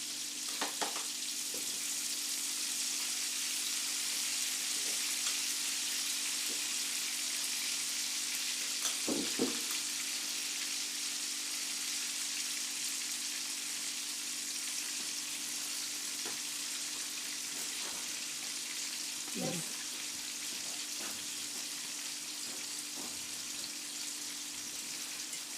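Pan sizzling as it is deglazed with half a lemon, a steady quiet hiss throughout with a couple of brief clinks and scrapes.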